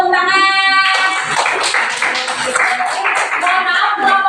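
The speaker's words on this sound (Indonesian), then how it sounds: "beri tepuk tangan" A fourth-grade class claps for a group of classmates after a science presentation, a burst of hand claps near and fairly loud, mixed with children's voices and a sustained musical tone at the start.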